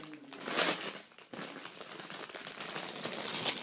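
Plastic packaging holding AliExpress necklaces is torn open close up, a burst of loud crinkling and crackling that continues in short rustling bursts.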